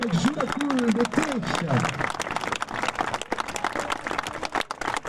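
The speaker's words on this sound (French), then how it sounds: "Avec vos applaudissements" Audience applause at an equestrian prize-giving podium ceremony, continuous dense clapping from a crowd while an announcer's amplified voice speaks over it at the start.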